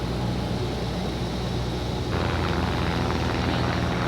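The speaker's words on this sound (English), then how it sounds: "we're landing" A light training airplane lands, its engine and airflow making a loud, steady roar inside the cabin that thickens into a broader rumble partway through, with no talk over it.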